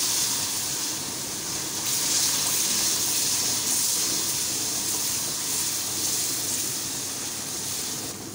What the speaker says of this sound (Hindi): इसमें अब तेज़ी से चमचा चलाएंगे ताकि इसमें लम्स ना बने।